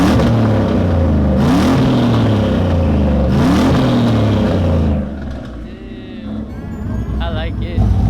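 A warmed-up truck engine revs hard in loud, repeated surges that rise and fall twice, then settles to a lower rumble with people talking over it near the end.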